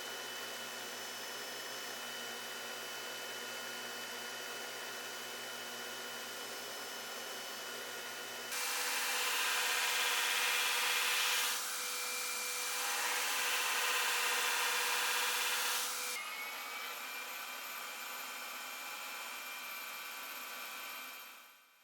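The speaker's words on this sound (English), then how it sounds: "this is really fairly routine grinding. You could do this with a file, you can do it on a really small 1x30 belt grinder" A belt grinder works a forged steel woodworking chisel, giving a steady close motor hum that swells into a louder, harsher abrasive rasp in the middle as the steel meets the belt, then settles back to the running hum.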